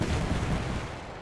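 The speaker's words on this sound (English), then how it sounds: "Knuckle cluster's firing." A knuckle cluster weapon fires in a video game, a dense, loud, continuous burst of explosive blasts with no talking.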